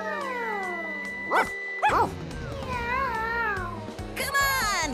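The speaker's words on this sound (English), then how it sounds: "the loud barks are slowing Swiper's catmobile down" A cartoon dog in a Dora the Explorer video game gives a few loud, high-pitched yipping barks among melodic animated voices and game sounds, mixed together over a busy background.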